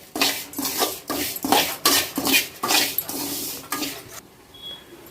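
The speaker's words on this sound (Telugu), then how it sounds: "ఇప్పుడు సేమియా వేయించుతూ ఉన్నాను" Repeated scraping and clattering of a utensil against a pan as vermicelli is roasted and stirred, in steady rhythmic strokes, close up, then stopping near the end.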